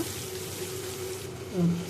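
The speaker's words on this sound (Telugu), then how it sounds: "సపరేట్ చేసుకున్న ఈ టమాటాలు అన్నీ పులుసు తీసుకొని ఇందులో వేసుకోవాలి." Tomato-tamarind juice poured into a pan of tempering with garlic, dried red chillies and curry leaves: a soft, steady watery pour lasting under two seconds, slightly fuller at the end, with no talking.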